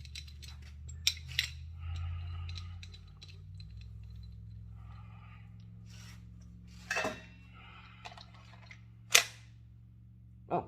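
A T8.1 long-barrel CO2 air gun fitted with a suppressor fires several sharp, muffled pops at irregular intervals, with faint mechanical clicks between shots in a quiet room.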